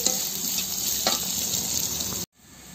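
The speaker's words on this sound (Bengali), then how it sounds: "পেঁয়াজগুলি আমাদের ভাজা হয়ে গেছে" Onions fry in hot oil in a pan during a mutton liver curry, with a steady loud sizzle and scrape of stirring that cuts off abruptly near the end.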